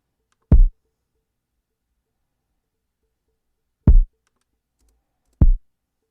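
Three short, thumping kick drum sample hits with no plugin processing, each alone with silence between, the second and third arriving closer together; dry and fairly quiet.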